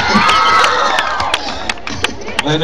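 A political rally crowd in Cancún cheers and shouts loudly, with whoops and claps rising over a dense roar of voices, a few sharp peaks of shouting standing out through the short stretch.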